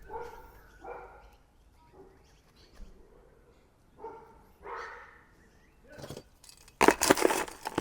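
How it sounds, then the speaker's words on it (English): Dogs bark in short separate bursts across a suburban neighbourhood on a weekend, moderately loud and somewhat distant, ending in a louder, harsher burst of noise. "Dogs barking, it's all happening in suburbia on the weekend."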